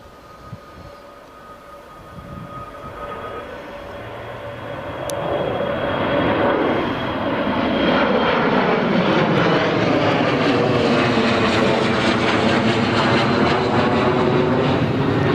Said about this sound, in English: here is the Gulfstream just departing